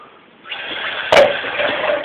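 Water pours steadily into a pot with a broad rushing splash, starting suddenly and continuing with a brief clink partway through.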